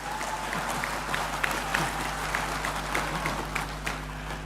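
Sustained applause from an audience at a Bank Indonesia payment-system gathering: many hands clapping in a steady, even wash across a large room over a low background hum, without a clear voice.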